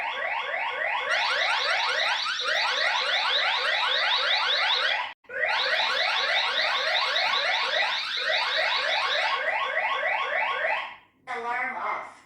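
A eufyCam 2 Pro home base and camera sounding their alarm sirens together: a loud, rapidly warbling electronic siren that repeats steadily, cuts out briefly, resumes, then changes pattern near the end.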